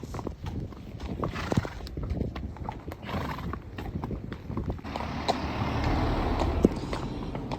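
Hooves of a mare clip-clopping while hacking out on a lane, a steady run of sharp, fairly faint hoofbeats over rustling outdoor background that swells toward the end.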